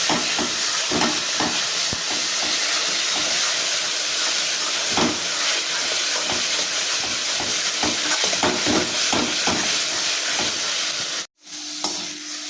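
Mashed flat bean paste with a little sugar, boiled while being stirred in a pan. Steady bubbling sizzle runs under repeated scraping strokes, close and continuous, then a brief cutoff near the end. No voices.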